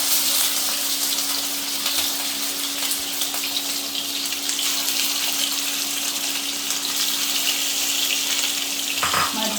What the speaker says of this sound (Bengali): তেলটা একটু যখন গরম হয়ে আসবে তখন আমি এর মধ্যে মাছগুলো এক এক করে ছেড়ে দেব